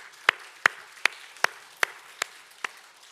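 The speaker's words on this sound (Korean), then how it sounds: "우리 이 시간 함께 하나님께 감사와 영광의 박수를 올려드리겠습니다" A church congregation at a Sunday service claps in unison, about seven sharp, evenly spaced claps roughly half a second apart, fairly close and alone without talk.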